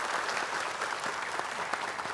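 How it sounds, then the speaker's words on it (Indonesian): A television talk show studio audience applauds, a steady, fairly soft patter of clapping that continues evenly throughout the short span. "Beri tepuk tangan."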